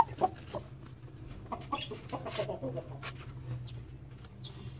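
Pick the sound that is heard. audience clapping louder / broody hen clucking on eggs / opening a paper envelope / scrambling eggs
broody hen clucking on eggs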